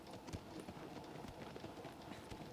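Horse hoofbeats from the video game Shadow of the Colossus, a steady run of soft clip-clop strikes at close range over a rumbling game backdrop, with no talking.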